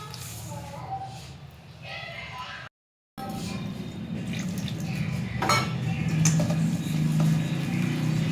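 A little water is stirred into a thick pakoda batter for cauliflower fritters, giving steady wet mixing and bowl clatter close by. A short silent gap breaks it partway through, and no one speaks.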